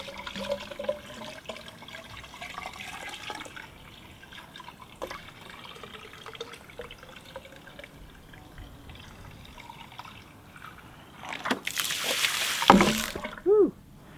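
Water trickling and dripping slowly from a bucket into a homemade PVC pipe shishi odoshi, a faint steady patter that ends in a louder splashing gush as the filled pipe tips and dumps.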